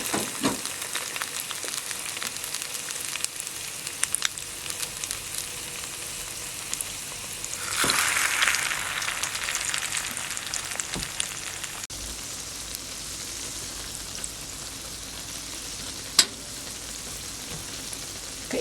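Ground meat sautéing in hot cooking oil in a pan over medium heat, a steady soft sizzle with occasional stirring scrapes and a brief louder hiss partway through, no talking.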